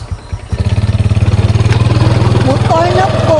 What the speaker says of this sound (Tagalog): Motor na po.